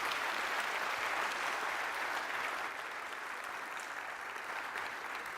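Audience at a live conference event in Brno applauding steadily, a dense even wash of clapping that holds for several seconds and eases slightly toward the end.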